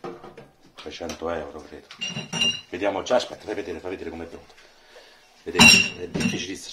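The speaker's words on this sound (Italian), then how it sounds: "scusate il rumore, abbiamo il lavapiatti" Dishes, pots and cutlery clatter and clink from dishwashing in a restaurant kitchen, sharp metallic knocks scattered under steady Italian talk.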